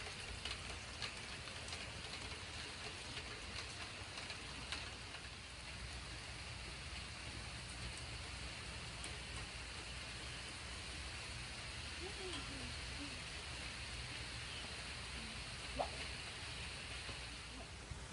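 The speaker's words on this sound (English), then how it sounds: "Oh man, it's raining." Steady rain falls in a soft, even hiss, faint and distant, with no other clear sounds.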